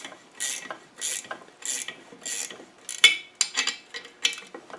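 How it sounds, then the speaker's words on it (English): A ratcheting spanner works a fastener on a gearbox, producing a close, rhythmic series of dry clicking ratchet strokes, about seven in a row, each a quick burst of metallic clatter with no voices. "And a ratcheting spanner."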